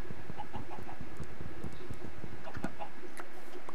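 Chickens cluck in a video game, a steady run of short, near clucks and ticks over a busy game backdrop, with no talk.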